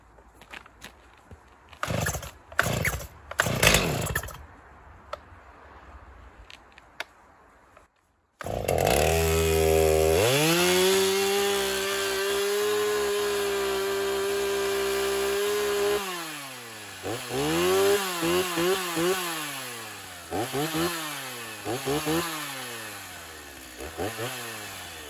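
A Stihl MS290 chainsaw is pulled and starts, then idles briefly before revving into a loud, sustained high-pitched whine. The engine then settles into repeated rising and falling revs, close and dominant.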